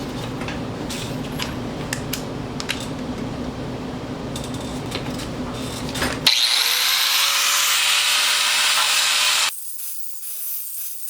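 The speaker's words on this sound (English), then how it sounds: "Cut that out with the saw." A power saw cuts into a Honda Civic rear trailer arm, first with a rough grinding rumble over several seconds, then a harsh, high, sustained cutting whine that stops abruptly near the end.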